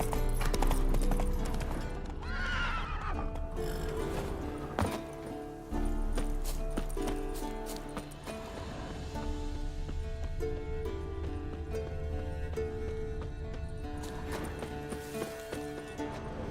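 Horse hooves clip-clop steadily in The Witcher 3, a continuous rhythmic trot of hoofbeats mixed with game ambience and music over most of the stretch.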